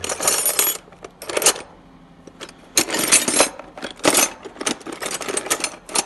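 A metal 12-13 wrench is picked up from among tools during elevator door adjustment, giving several sharp metallic clinks and jangles in short bursts separated by quiet gaps.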